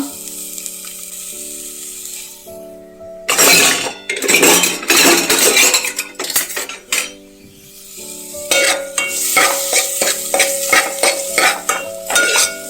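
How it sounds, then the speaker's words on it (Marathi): Onion frying in coconut oil over a medium-high flame for a crab curry, loud bursts of crackling sizzle alternating with metal utensil clinks and stirring against the pan, with quieter hissing gaps between. "कांदो हो मिडियम हाय फ्लेमीचेर फ्राय करून घेता."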